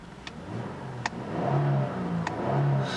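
Genesis G80 with a 3.8 liter GDI Lambda V6 engine starting, settling into a smooth, low, moderately quiet idle hum, with a few brief clicks over the top and no talking.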